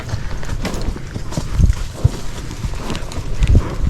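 A Spotted Saddle Horse walks along a trail, its hooves thudding in an irregular, steady clip-clop, close and fairly loud over light outdoor background noise.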